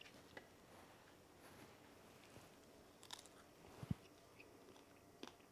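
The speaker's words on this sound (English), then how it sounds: "I'm going to go ahead and try one of these fries." Faint crunching bites of crispy french fries served with aged garlic wings, a few soft, sparse crunches in a quiet room.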